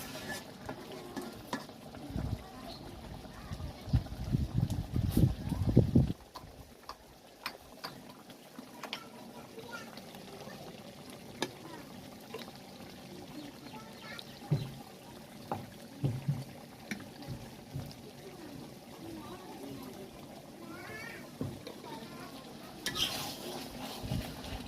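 Egg bhuna with cumin is stirred in a pan on a gas stove, giving faint frying sizzle and scattered light scrapes and taps, a louder clattering burst early on, then quieter intermittent stirring.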